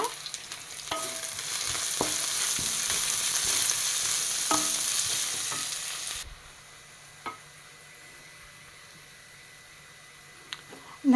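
Green chillies and curry leaves sizzle and fry in a pan with steady crackling and stirring for about six seconds, then the pan quiets to a low hum with a few faint clinks.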